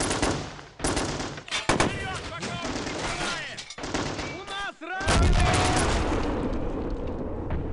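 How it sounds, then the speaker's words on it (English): Serbian artillery fires in a Chechnya 2005 war game, loud broadband bursts of heavy gunfire and booms running almost without break, with the heaviest blast near the end and voices talking underneath. "Oh, the Serbian artillery engaging."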